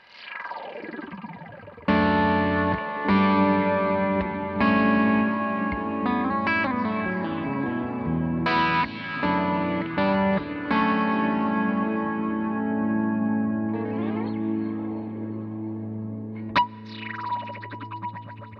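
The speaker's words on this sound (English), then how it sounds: "my final preset in there is the Terra Echo, which is another sound that's sold this pedal to me" Electric guitar run through a Terra Echo delay pedal preset, ringing chords and notes trailing into lush, modulated repeats and wash, played alone and fairly loud with sustained decaying echoes.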